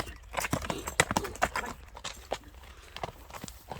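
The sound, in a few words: horse hooves clip-clop while walking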